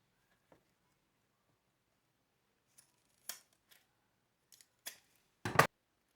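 Scissors snip while fabric for a sunglass case is trimmed in a straight line. A few short, crisp cuts come in quick bursts with quiet gaps between them, close by and alone.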